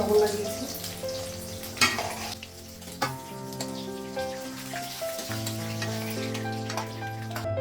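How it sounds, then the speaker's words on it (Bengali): Oil sizzles steadily in a hot wok as fish fries, a continuous crackling hiss with a few sharper pops and clinks along the way. "কড়াইটা গরম হয়ে গেছে মাছটা আগে ভেজে নেবো"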